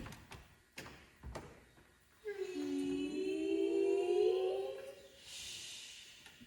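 In a staged Poe horror tale, a few soft taps and clicks of a door latch give way to a long, slow, wavering creak as the door opens, which then fades out.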